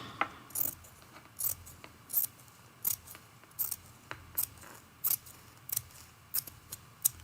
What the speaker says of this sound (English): Let's trim some of this off.